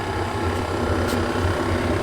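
The engine of a used RV idles, heard up close at the exhaust as a steady low rumble with a faint mechanical ticking.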